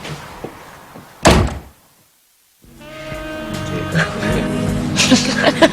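An indoor door swings shut with a single loud, close thud, followed by a moment of near silence before music and background sound resume.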